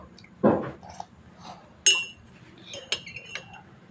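A metal spoon clinks against a cup while someone drinks tea, giving several sharp, close, separate taps spread unevenly over a few seconds in a quiet room.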